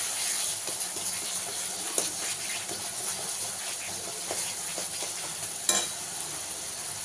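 Egg curry gravy sizzles in a pan while being stirred, a steady hiss broken by soft scraping strokes and a sharper clink near the end, without talking.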